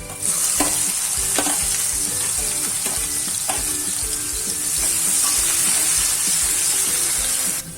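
Onions frying with garlic in a pan, a loud continuous hiss of hot oil with repeated spatula scrapes and stirs throughout, close and steady, with no voices.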